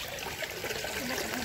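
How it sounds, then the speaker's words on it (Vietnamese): Water trickles and splashes steadily at a hot mineral spring, a continuous close hiss of flowing water with no voices. "Suối khoáng nóng."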